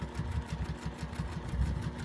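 A home sewing machine stitches along a marked quilting line with a long stitch length, a rapid, regular mechanical chatter with a low motor hum, close and fairly quiet, with no voices.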